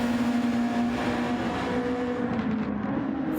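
A Formula 1 race car engine in a racing video game drones loudly and steadily at high revs, with a faint shift in pitch toward the end.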